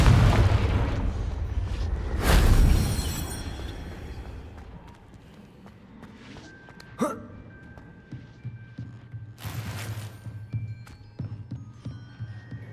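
A Confringo explosive spell blast in the Hogwarts Legacy video game, a loud booming burst early on, followed by lighter magical whooshes, pops and a sharp crack, with no talk.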